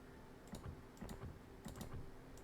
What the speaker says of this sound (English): I'm clicking too much.